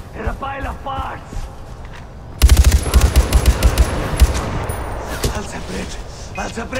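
Gunfire in Far Cry 4, starting abruptly as a loud burst of rapid repeated shots after a short stretch of quieter sound, with a voice talking over the early part.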